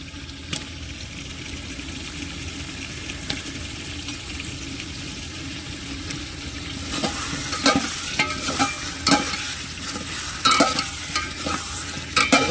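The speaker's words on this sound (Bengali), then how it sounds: "ভাজা আলুগুলোকে আমরা দিয়ে দিচ্ছি একই সঙ্গে" Fried potatoes stirred into a one-pot chicken dish, a low sizzle under scattered scraping and clacking of the spoon against the pot, growing busier and louder in the second half.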